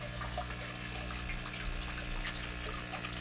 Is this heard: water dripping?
yes